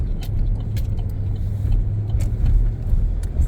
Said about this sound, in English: City bus, Appleton.